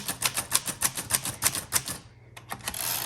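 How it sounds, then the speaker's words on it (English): A 1948 Underwood Champion portable typewriter clacking out about a dozen crisp, evenly paced keystrokes up close, then a brief pause and a softer mechanical rustle to close. "This really does type very well."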